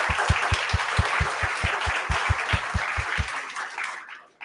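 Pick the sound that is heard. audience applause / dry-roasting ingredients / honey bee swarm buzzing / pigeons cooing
audience applause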